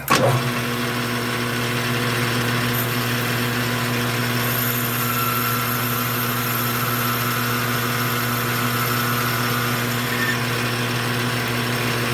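A five-cylinder radial engine being cranked runs with a steady, loud mechanical drone that holds level for the whole stretch after a brief start, and no talking.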